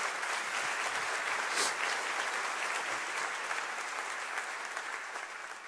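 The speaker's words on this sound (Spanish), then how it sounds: "Un aplauso al Rey de Reyes." A church congregation applauds steadily, a broad wash of many hands clapping at moderate distance that holds evenly throughout and eases slightly toward the close.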